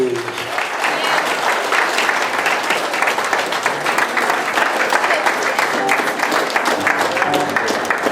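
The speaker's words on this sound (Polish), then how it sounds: "Wielkie brawa dla pary młodej!" Wedding guests applaud the newlyweds after their first dance, a loud, dense, steady wall of clapping from a large crowd that fills the room without a break.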